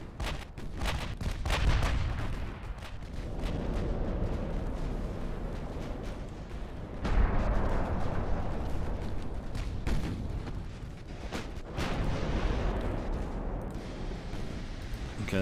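Naval gunfire from warships in the game Ultimate Admiral: Dreadnoughts, heavy booming shots and rumbling blasts repeating at irregular intervals, loud and close.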